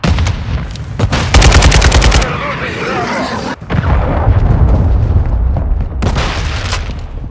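Heavy gunfire and explosions from an AC-130 gunship in Call of Duty Modern Warfare 2 multiplayer, with rapid cannon bursts, booming impacts and rumbling blasts running loud and continuous, interrupted briefly midway.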